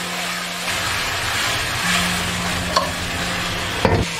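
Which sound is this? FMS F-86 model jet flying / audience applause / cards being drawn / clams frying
clams frying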